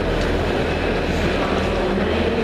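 Steady rumbling running noise inside a moving train carriage, a loud continuous low roar with faint rail rattle and no talking.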